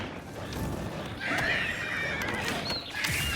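A horse in Elder Scrolls IV: Oblivion Remastered whinnies with a drawn-out, wavering neigh over clip-clopping hooves and a steady game-world ambience, close and fairly loud throughout.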